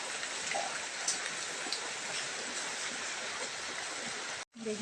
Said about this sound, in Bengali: দেখো বিশাল বৃষ্টি শুরু হয়ে গেছে।